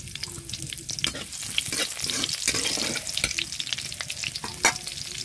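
Whole dried red chilies crackle and sizzle as they fry in hot oil, a steady close frying hiss with stirring scrapes and sharp pops throughout, no voices.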